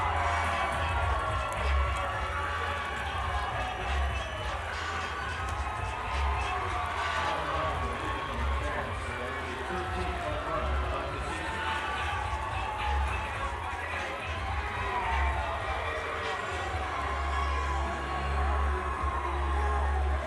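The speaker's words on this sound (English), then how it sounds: "A stunned crowd in Atlanta" Crowd at a college baseball game in Atlanta between Georgia Tech and Oklahoma reacting to a grand slam, a continuous roar of cheering and shouting that holds steady throughout, with a commentator talking over it.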